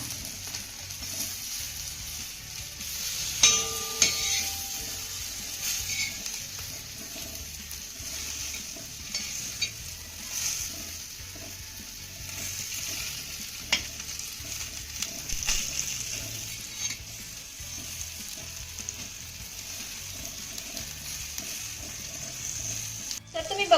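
Sliced garlic potatoes fry on a village-style iron tawa, giving a low continuous sizzle with scraping clatters as pieces are flipped, a sharper metallic knock near the start and another at the end.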